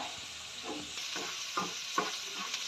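Onions and capsicum frying in a pan and stirred, a steady soft sizzle with a few scraping stir strokes, at close range with no voices.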